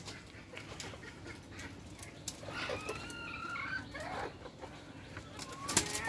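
A native deshi rooster kept in a cage gives a few soft clucks and short calls midway through. The calls are fairly faint over a low background hum.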